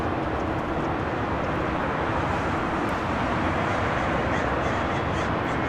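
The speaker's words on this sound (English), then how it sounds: "We have a special touching down on 25 left coming in from Salt Lake City" A JetBlue Airways jet in Boston Bruins livery touches down on runway 25 left at LAX, arriving from Salt Lake City, heard as a steady broadband roar that stays loud and even throughout with no talk.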